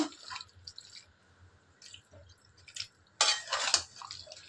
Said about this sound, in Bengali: এবার এটাতে আমরা হালকা জল মিলিয়ে দিচ্ছি গ্রেভির জন্য।